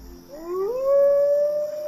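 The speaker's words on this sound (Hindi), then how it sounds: "ये क्या है, कुत्ता है?" A single dog's long, rising howl at night, clear and fairly close, sliding up and then holding a steady pitch for over a second.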